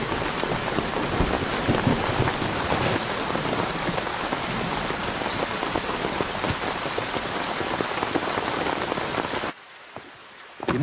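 Steady, dense rain pours down on a surface outdoors where coffee lies drying, a continuous close hiss and patter with no voices, cutting off abruptly near the end.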